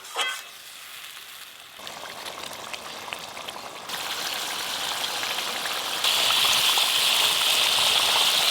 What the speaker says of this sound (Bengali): গ্রেভি তো ফুটে গেল